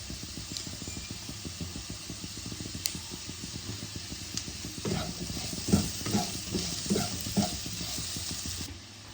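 Small bay leaf pieces frying in a pan for poha, a steady close sizzle with rhythmic stirring scrapes that grow busier and louder partway through.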